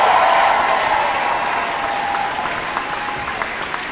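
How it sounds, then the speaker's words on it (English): A rally crowd in Davenport, Iowa claps steadily in a broad wash of applause that slowly eases over four seconds, with a few sharper individual claps standing out near the end. "Can we give her another hand clap of praise"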